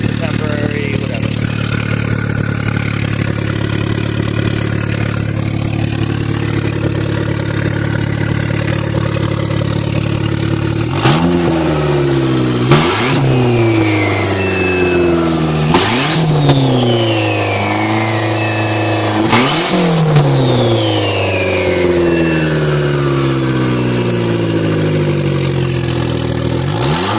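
A Mitsubishi Eclipse making almost 600 horsepower, with its exhaust removed, idles loudly and steadily up close, then revs hard several times with sharp rises and falls in pitch.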